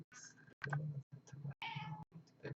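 A house cat meows repeatedly nearby, several distinct cries separated by short pauses, close and clear.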